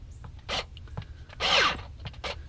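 A power drill tightens a pipe fitting on a backyard sump pump drainage line, giving a few short, close grinding and whirring bursts with brief pauses between them.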